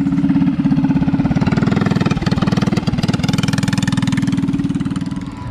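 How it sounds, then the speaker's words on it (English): An old hit-and-miss engine chugs steadily with a rapid, even thumping beat, loud and close, running on without pause at an outdoor swap meet. "Really cool old hit and miss engine right here."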